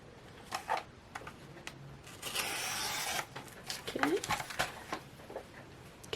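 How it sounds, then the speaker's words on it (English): A paper cutter trims wrapping paper with a brief scraping slice in the middle, surrounded by rustling paper handling, close by, with a voice speaking around it. "Let me cut it on the cutter here real quick, so I have a nice clean edge."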